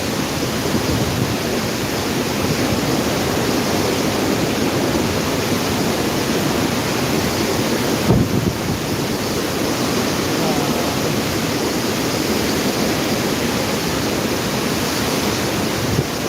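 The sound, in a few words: roaring typhoon wind, Typhoon Uwan in Bicol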